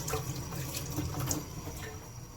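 Hands being washed under a running kitchen tap: a steady, close rush of water with soft splashing and shifting as hands move through the stream, continuous and fairly loud.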